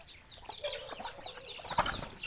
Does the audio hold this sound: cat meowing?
no